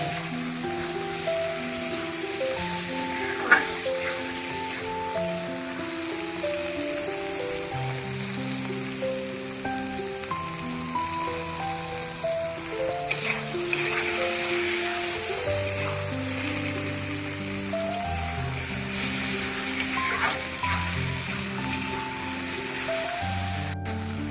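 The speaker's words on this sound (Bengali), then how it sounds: "লাউ সবজিটা না একটু ভেজে নেলে গন্ধটা চলে যায়" Bottle gourd fries in a pan with a steady, close hiss and crackle of sizzling oil that runs unbroken for over twenty seconds beneath a background melody.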